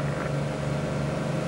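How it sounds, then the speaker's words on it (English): Cessna C185 piston engine at full power, 2850 RPM, during the takeoff roll at about 40 knots: a loud, steady, droning roar with a constant pitch, close and continuous, with no voices. "the aircraft has full RPM, 2850 RPM, 40 knots"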